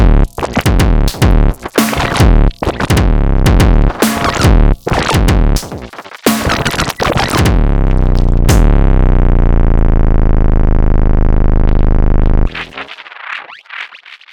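Elektron Syntakt drum machine playing a pattern of kick, snare, hi-hat and noise: a loud, punchy rhythmic groove that gives way to a long sustained ringing tone, then a brief noisy tail near the end, with no voices.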